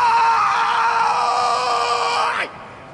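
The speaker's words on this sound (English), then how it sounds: "Yawning is your body's way of shouting," A person lets out a long, loud yawn that sounds like a yell, a sustained strained voiced cry lasting over two seconds before sliding down in pitch and cutting off abruptly.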